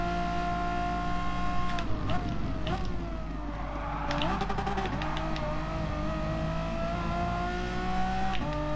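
Race cars in Gran Turismo Sport at the Red Bull Ring, GR4 class with an Audi in the slipstream, engines droning steadily with rising and falling pitch through gear changes, continuous and close under a commentator's voice.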